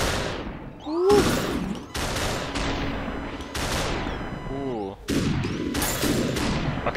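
Gunfire in the video game Superhot, several sharp bursts of shots at intervals, loud and close, with sweeping whooshing effects between them.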